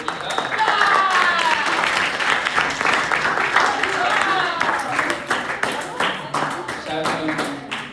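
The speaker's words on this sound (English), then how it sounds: "Can we clap our hands to Mika?" Audience clapping for a speaker at a small-group gathering, a steady broadband patter of many hands filling the space, with voices talking over it throughout.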